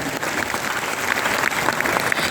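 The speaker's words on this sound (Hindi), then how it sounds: "मैं चाहूंगी फिर से सिस्टम के लिए जोरदार ताली" An audience at a Safeshop business talk gives loud, dense applause, a steady wash of many hands clapping at once that holds for the whole moment without any break.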